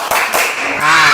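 Schoolchildren in an Islamic classroom clap once in unison, a loud sharp crack followed by a brief echo and a lingering ring in the room.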